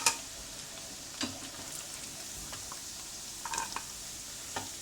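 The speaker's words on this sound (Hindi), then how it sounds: "ये मेरा सारा चिकन तकरीबन फ्राई हो गया है" Chicken frying in a pan for chili chicken dry, a faint, even sizzle broken by a few scattered clicks and scrapes of stirring.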